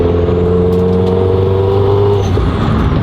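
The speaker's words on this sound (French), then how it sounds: "Donc là quand je fais charger le turbo, on a 515 chevaux à 6000 tours." A Renault Mégane RS engine tuned to about 515 horsepower revs hard as the turbo spools, a loud close drone with rising tones that peaks then drops off near the end, no voices over it.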